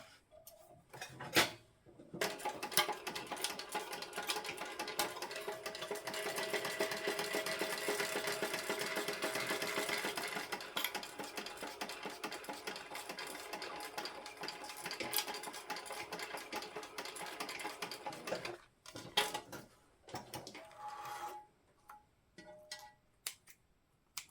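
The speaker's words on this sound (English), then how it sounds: "I like to sew from the bottom up just so we can get close to that zipper" A sewing machine stitches the side seam of an unlined jelly vinyl zipper pouch, working from the bottom up. It whirs steadily and up close for about sixteen seconds, then gives a few short start-stop bursts.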